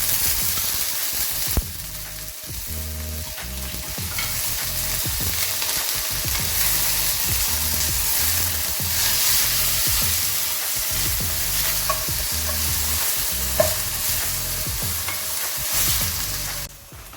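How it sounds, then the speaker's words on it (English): Onion and sliced pepper frying in hot coconut oil, a dense continuous sizzle with occasional stirring scrapes that holds steady for the whole stretch, close by and with no talking. "coconut oil into the pan, which is already hot. And I'm going to add 1 onion and some sliced pepper."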